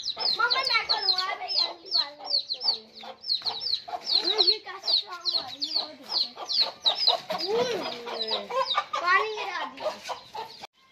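Many chickens cluck and squawk continuously, close and busy, with overlapping calls and occasional louder cackles.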